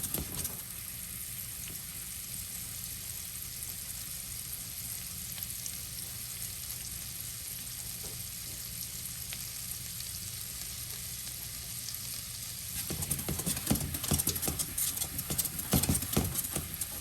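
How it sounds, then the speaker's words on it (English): Butter pads melting in a pan over low heat for a Swiss pork chop sauce give a steady, soft sizzle and frying crackle throughout, growing louder and more spattery near the end. "reduce the heat down to a low and add your butter pads in"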